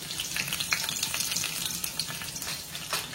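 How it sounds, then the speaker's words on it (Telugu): Chopped onions sizzle in hot oil in a pot, the start of a goat brain fry. A steady crackling hiss with small pops runs close by for the whole stretch, with no voices. "ఆయిల్ హీట్ అయింది కదా, ఆనియన్స్ వేసుకున్నాం"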